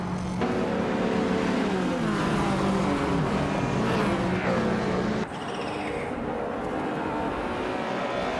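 Race car engines in a racing video game, loud continuous whining and revving with gear-shift pitch sweeps as several cars run nose to tail, followed by a sudden drop in level partway through.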